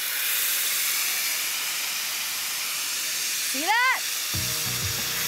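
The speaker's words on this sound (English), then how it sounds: "Gonna add the wet masala to the hot oil. Be careful, because it will sizzle and splutter a lot." Wet masala hits hot oil while an aloo gobi curry is cooked, giving a steady, loud, close hiss and sizzle with a short squeaky spurt, then a voice speaks briefly over the continuing frying.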